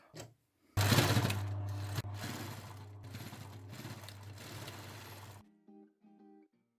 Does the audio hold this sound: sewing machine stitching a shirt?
yes